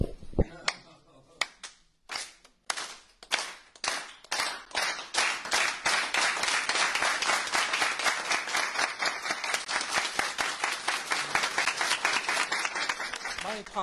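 A crowd at a campaign event doing the Labor Clap, or Unity Clap: scattered claps that speed up into fast, dense, steady clapping, with a few voices mixed in.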